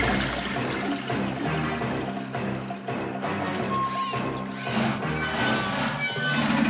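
A cartoon toilet flush sound effect from the animated series Camp Lakebottom gives a rushing, swirling gush of water that lasts several seconds. It plays over busy background music with no talking.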